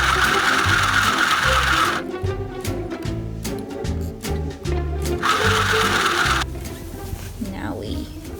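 A domestic sewing machine stitches a long French seam on a peasant blouse in two loud bursts of rapid whirring, separated by a stretch of clicking and handling noise, with a voice talking over part of it.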